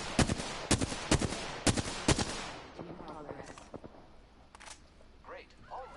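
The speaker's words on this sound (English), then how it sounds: "I am taking fire, friends." Gunfire in the battle royale game Apex Legends, a handful of loud, sharp single shots in a quick uneven rhythm, then fainter distant shots and game sounds while a voice speaks over them.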